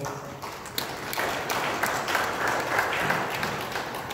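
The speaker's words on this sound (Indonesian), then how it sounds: "Tepuk tangan untuk kita semua." A crowd at a formal gathering applauds in a steady, fairly close wash of clapping that holds evenly for several seconds.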